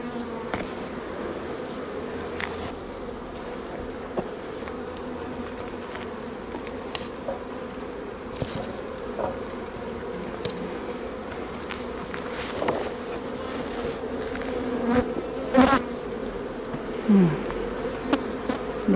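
Honeybees buzz around an open hive body during a frame inspection, a dense, continuous droning hum close by with occasional louder passes of individual bees and faint handling knocks.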